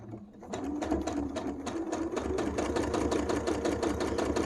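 Sewing machine stitching a single seam on a fabric face mask turned like a tube, running steadily at close range with a fast, even rhythmic whir and no talking.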